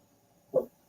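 A single short dog bark or yip, fairly faint and heard alone in a quiet room, clipped and quick.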